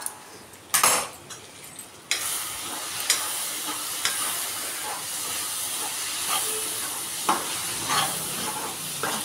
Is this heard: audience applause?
no